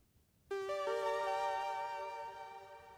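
A spacey synth patch from a Brute synthesizer enters after a short silence, bright sustained tones that step up through a few notes and ring on smoothly, slowly fading.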